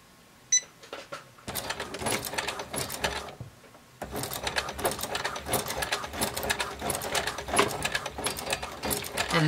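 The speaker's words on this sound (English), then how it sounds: "I'm going to actually very slowly backstitch" A home sewing machine stitching a bag lining and shoulder straps runs slowly in reverse, giving a click, a pause, then bursts of close rattling stitches that start and stop with a brief break mid-way.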